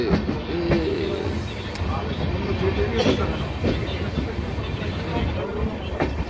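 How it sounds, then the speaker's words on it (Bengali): A train rumbles past very close to houses and trees, with a steady low roar and faint rhythmic clatter of wheels throughout, while voices talk over it nearby. "ঘরের ভিতর দিয়ে ট্রেন চলে যাবে।"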